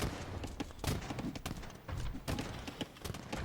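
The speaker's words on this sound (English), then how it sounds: "They're bombard cannons." Bombard cannons firing in an Age of Empires 2 match on Xbox, heard as a quick series of loud, sharp booming blasts at irregular intervals amid busy battle clatter.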